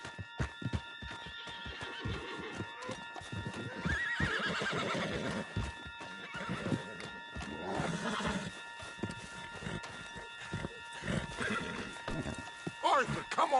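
A horse in Red Dead Redemption 2 gallops with steady clip-clopping hooves and lets out neighs, loud and close, under shouted game dialogue and continuous action sounds.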